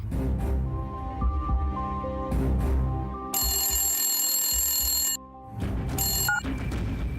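A telephone rings with a bright, steady electronic tone for about two seconds in a room scene, framed by softer background sounds, as a call goes out to an older brother.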